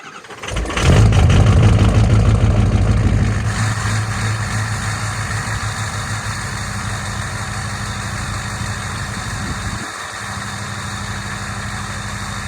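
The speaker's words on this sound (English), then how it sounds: "I'm going to try to get you guys a cold start right now" A pickup truck left plugged in for hours cold-starts in 10-degree weather: a brief crank, then the engine catches with a loud rev and settles into a steady, rough idle that drops slightly near the end.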